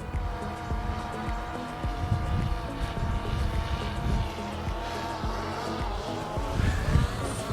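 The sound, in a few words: drone returning home and landing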